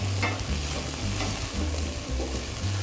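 Red chilies and garlic are stirred in a pan for arrabbiata sauce, giving a steady close sizzle with a low hum underneath and a few soft scrapes. No voices.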